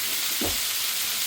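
Butter sizzling and frying in a pan with a pork chop, a steady loud hiss with a brief soft bubbling burst, no talk.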